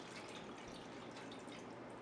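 Beef marinade poured into a slow cooker, a steady, continuous liquid pour held at an even level throughout, with no talking.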